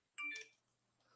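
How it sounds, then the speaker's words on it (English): A phone gives a quick burst of bright electronic notification tones for incoming text messages, loud for a moment and then gone, leaving a faint low hum with no talking. "someone's phone's blowing up."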